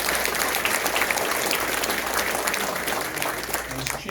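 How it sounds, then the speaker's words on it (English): An audience at a Northwell Health commencement ceremony claps for donors, steady dense applause filling a large hall, loud and continuous throughout. "So they deserve another round of applause."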